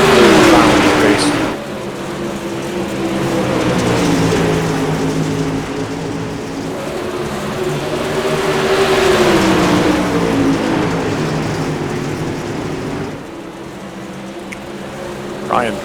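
Super late model race cars roar together through a heat race in Knoxville, a steady layered engine drone rising and falling as the pack circles, with a commentator talking over it throughout.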